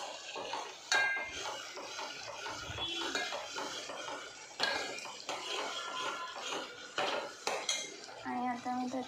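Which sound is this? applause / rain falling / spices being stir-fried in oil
spices being stir-fried in oil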